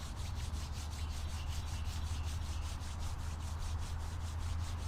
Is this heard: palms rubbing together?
yes